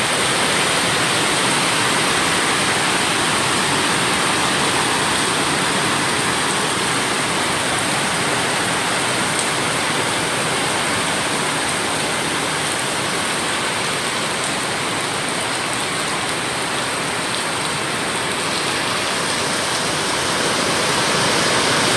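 A heavy downpour during a thunderstorm roars steadily and loudly throughout, a dense, unbroken hiss of rain pounding down with no pauses and no voices.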